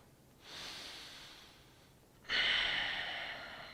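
Two deep breaths during a yoga spine-stretching warm-up, a long airy inhale followed by a stronger, louder exhale, close and clear with no talking.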